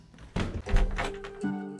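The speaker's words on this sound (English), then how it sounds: "was my cat's feeder going off." An automatic cat feeder goes off indoors at night, giving a single soft thunk followed by a low, steady motor-like hum that runs to the end, with no voices.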